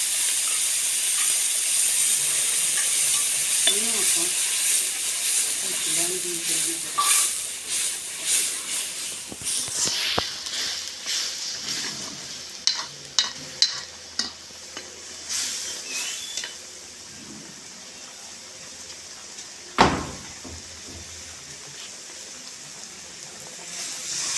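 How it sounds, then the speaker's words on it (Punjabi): Onion and garlic paste frying in a pan after cumin, for a Punjabi soya chunk curry: a steady hiss and sizzle with spoon stirring and scraping, a few sharp clinks and one louder knock, no talk. "ਆਪਾਂ ਪਿਆਜ਼ਾਂ ਦਾ ਪੇਸਟ ਕਰ ਲਸਣ ਦਾ ਪੇਸਟ ਪਾਉਂਗੇ ਇਹਨੂੰ ਭੁੱਜ ਲਾਂਗੇ ਚੰਗੀ ਤਰ੍ਹਾਂ"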